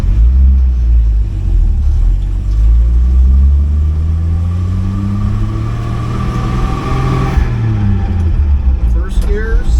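A car engine pulls away and revs up through the lower gears, its pitch climbing and falling with each shift, a steady loud rumble with someone talking over it.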